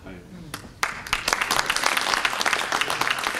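Scattered claps break out and quickly swell into a full round of applause from a colloquium audience in a hall, rising from a few sharp hand claps to steady, dense clapping.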